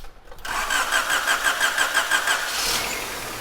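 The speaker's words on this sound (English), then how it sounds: "So we're gonna go ahead and start it and bleed the air out." Car engine on an overheating car being started to bleed air from the cooling system, a short cranking whir catching into a running engine that settles into a steady idle, close and fairly loud.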